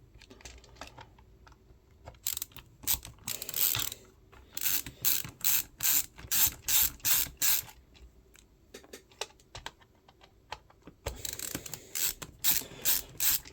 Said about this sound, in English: the LTC screwdriver is a great little driver